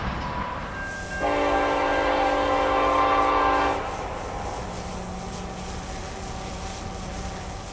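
Norfolk Southern freight train 376 heading east on the Dayton District, a loud multi-tone horn blast sounding for about two and a half seconds, then fading to rumbling rail noise as the train rolls past.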